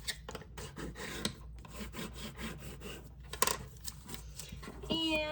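A paper card being folded in half by hand, soft rubbing and creasing close by, with light talking over it.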